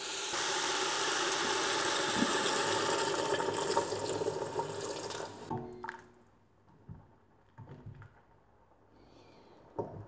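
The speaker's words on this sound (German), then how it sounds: "Und dann fülle ich das Ganze mit meiner Brühe auf, und zwar so, dass das Gemüse gerade bedeckt ist." Broth pours over vegetables in a pot for an old-style beef and vegetable stew in a steady, full rushing stream for about five seconds, followed by a few quieter drips and small clinks.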